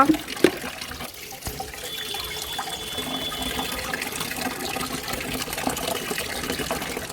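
Water running steadily from an open tap in a home sink, a close continuous splash with a few knocks at the start.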